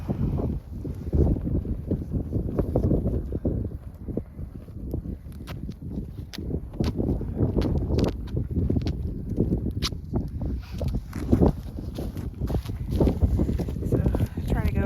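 Strong gusty wind buffets the microphone outdoors during repairs to garden row covers, a constant rough roar with knocks and flaps throughout.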